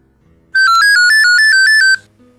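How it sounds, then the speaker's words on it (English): Phone ringtone in the indie horror game Inspector Chamberlain, a loud, bright electronic trill repeating in rapid even pulses for about a second and a half, then stopping abruptly over faint low background sound. "Damn, phone, don't scare me like that."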